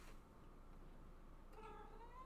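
Hungry pet cat meowing faintly in the distance, one short meow near the start and a longer rising meow near the end, over a steady background hiss.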